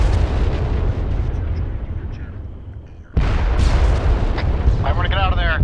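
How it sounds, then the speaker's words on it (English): Rockets in a military shooter game arrive as a low, heavy rumbling barrage that dips briefly. A sudden loud blast follows with debris and crackle, and a voice speaks over the din. "Those are rockets."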